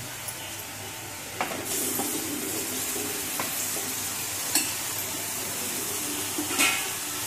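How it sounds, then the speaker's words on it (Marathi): Steady loud sizzling of minced mutton frying in a pan with onion and turmeric, with occasional scraping stirs breaking through the hiss. "आता खिमा टाकूया"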